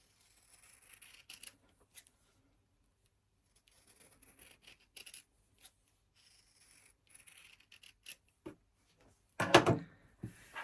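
Scissors cut out an embroidered gingerbread letter in sparse, faint snips and rustles, then a louder cluster of close cuts near the end, with no talking.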